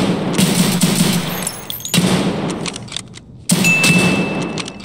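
Gunfire from a firefight in the video game Escape From Tarkov, with rapid bursts of shots that cut off twice and resume, loud and close.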